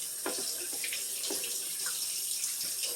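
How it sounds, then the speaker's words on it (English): Eggs are rinsed under a running kitchen tap, a steady close hiss of flowing water with small splashes and clunks as the eggs are handled in the stream. "I'm just rinse them a little further."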